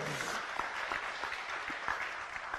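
Steady applause from an audience at a spiritual talk, a dense wash of clapping that holds at an even level for a few seconds with a few sharper claps standing out.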